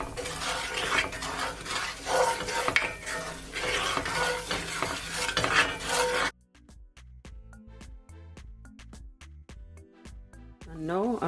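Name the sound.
stirring seasoning in a sizzling pot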